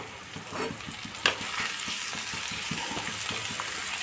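Chopped tomato frying with chicken in a pan over low heat, a soft steady sizzle broken by repeated scraping stirs, close and fairly quiet.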